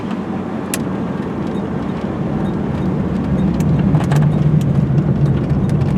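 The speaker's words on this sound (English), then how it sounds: "Got a beautiful stainless aftermarket muffler on the car." A 1988 Pontiac Trans Am GTA engine with a stainless aftermarket exhaust idles steadily up close, a low constant rumble through the exhaust that swells slightly louder partway through, with no voices.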